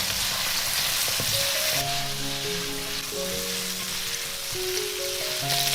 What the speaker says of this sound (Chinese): 再把香菇加进来，加入2勺生抽，1勺蚝油，一点点白糖，少许盐，翻炒一下